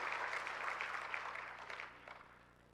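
Applause from a conference audience at the Kadin Rapimnas 2024 meeting in Indonesia, a broad wash of many hands clapping that starts full and gradually fades over a few seconds, with no talk over it.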